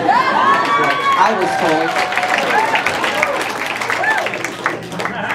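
A comedy club audience claps and cheers loudly during a stand-up set, with excited shouts and whoops riding over dense clapping, and a person speaks briefly amid the noise.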